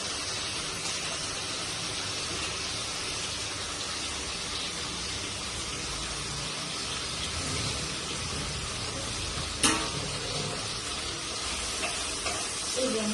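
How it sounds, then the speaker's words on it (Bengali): Shrimp frying in a pan, a steady close sizzle and hiss throughout, with one sharp clatter of a utensil partway through and faint stirring sounds. "চিংড়ি বেশি ভাজবো না, তাহলে মানে শক্ত হয়ে যাবে।"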